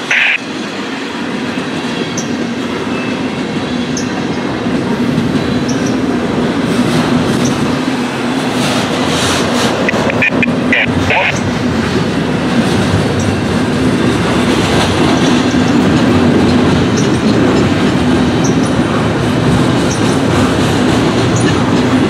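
Norfolk Southern freight train NS 234 rolls past close by, a loud steady roar of wheels and cars with rhythmic clatter and occasional squeal, continuous throughout.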